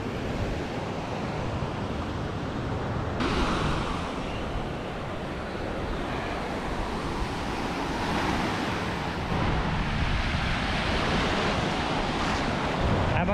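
Sea surf washes steadily onto a Caribbean beach at Playa Mahekal near Playa del Carmen, a continuous broadband roar of breaking waves mixed with gusty wind buffeting the microphone, no voices over it.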